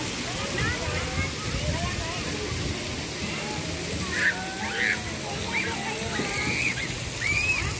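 Sea water washes and sloshes steadily at a crowded beach resort pool, a dense, continuous splashing roar with occasional brighter splatters and faint crowd voices mixed in.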